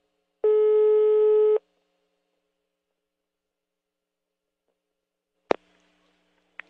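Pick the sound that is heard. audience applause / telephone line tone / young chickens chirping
telephone line tone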